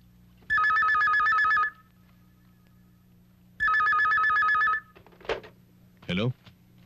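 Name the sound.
telephone ringing after being dialed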